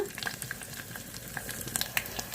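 Spices and dried red chillies fry in hot oil with a steady, fairly quiet sizzle, dotted with small scattered pops and crackles.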